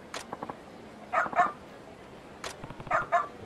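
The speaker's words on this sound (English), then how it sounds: "We can barely sleep and it's barking its fool's head off like that." A dog in the video game Like a Dragon: Ishin barks in two clusters of quick, sharp yips and barks, fairly close and clear, with a short pause between the bursts.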